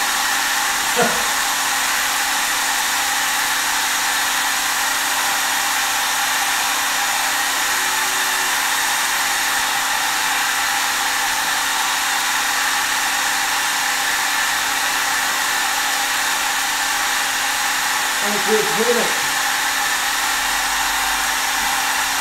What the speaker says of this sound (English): there's no noise now other than this pump